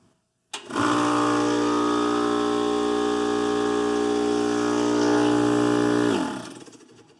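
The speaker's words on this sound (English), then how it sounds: "We're gonna test the inrush current off of this compressor" A compressor powered from a single EG4 6000XP off-grid inverter kicks on abruptly and runs with a loud, steady harmonic hum and whine for about five seconds, then shuts off and winds down.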